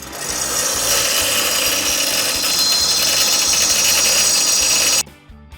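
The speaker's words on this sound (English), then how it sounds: "I'm having to grind down the end of this." A grinder biting into the end of a metal strap while mocking up parts on a 47-year-old station wagon: a loud, harsh, continuous abrasive whine that holds steady for several seconds, then cuts off abruptly near the end.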